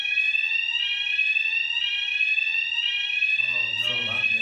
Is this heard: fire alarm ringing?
yes